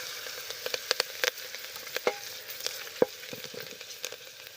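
Ginger and green chillies sizzle in hot oil with asafoetida and turmeric for a bottle gourd and lentil dish, a steady soft crackle with scattered sharp pops, fairly quiet and without talk.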